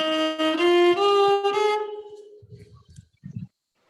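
A violin plays a rising sequence of Carnatic scale notes, smooth sustained bowed tones gliding upward one after another, close and alone, followed by a few faint low thumps.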